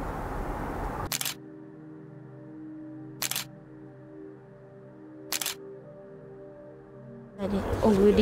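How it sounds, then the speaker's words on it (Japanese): A camera shutter clicks three times, each a crisp, close mechanical snap about two seconds apart, as a photo is taken outdoors in a park in Tochigi, with voices starting at the end. "写真撮ってもらってもいいですか？"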